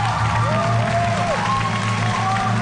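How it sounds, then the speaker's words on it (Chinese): Applause from a studio audience at a televised singing competition, a steady dense clapping wash that fills the whole moment, with a voice rising over it. "只有阿布一个人站起来鼓掌"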